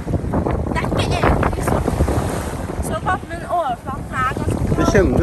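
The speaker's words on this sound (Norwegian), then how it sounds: "Ok, det blåser mye." Strong wind gusts batter the microphone over the rush of nearby sea waves in Croatia, with a voice briefly speaking partway through.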